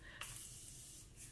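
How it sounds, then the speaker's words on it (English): A Morphe Jumbo Continuous setting spray gives one fine, hissing mist burst, close and alone, briefly repeated at the end. "I'm gonna go ahead and spray some of this Morphe setting spray"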